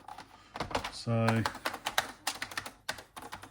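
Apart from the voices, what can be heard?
typing on Oril BK-08 ZX Spectrum clone computer keyboard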